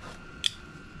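One crisp snip of scissors through the material of a Jeep JT/JL door pocket, close and brief against a steady background hiss.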